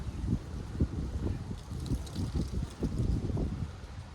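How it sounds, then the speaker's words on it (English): A breeze blows outdoors in bursts of low, rumbling gusts buffeting close, moderately loud, with no one speaking. "it's a little breezy out here today"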